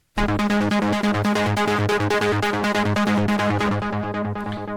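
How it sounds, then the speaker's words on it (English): A bright synth arpeggio starts abruptly and repeats a quick pattern of notes over a pulsing bass. It plays loud and continuous throughout, with no voices. "So if I just hit one key on my keyboard,"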